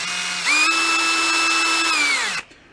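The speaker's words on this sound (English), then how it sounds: "if you start them out slow with your drill, they're going to be fine" Power drill driving a thread tap into a mid-1960s Rogers Swiv-O-Matic drum pedal, a steady close whine that steps up in pitch after a short start, holds evenly for about two seconds, then winds down and stops.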